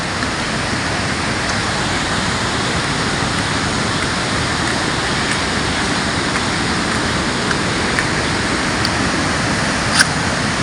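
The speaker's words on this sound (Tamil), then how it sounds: "பாருங்க வாட்டர் ஃபால்ஸை, நம்ம சுற்றி காடு" Shoolam waterfall in a forest near Kochi pours with a steady, dense rushing roar that stays even and continuous throughout, with no voices over it.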